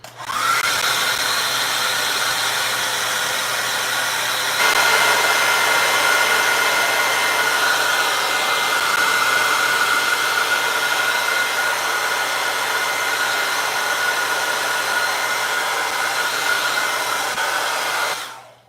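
A hair dryer blows over wet acrylic paint, a loud, close, continuous whirring roar that shifts slightly in tone partway through and holds steady for nearly twenty seconds before cutting off, with no voices.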